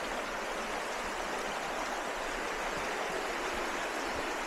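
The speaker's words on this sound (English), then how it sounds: "this is pretty much my favorite part of the trail, where we are along the Cheohee River." Cheohee River flowing along the Foothills Trail: a steady, dense rush of moving water, loud and close, unbroken throughout with no voices.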